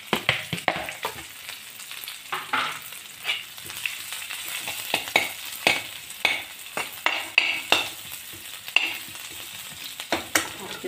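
Green chili, garlic and grated ginger frying in hot oil for chana dal puri, with a steady close sizzle broken by repeated scraping and stirring strokes from a spoon, no voices.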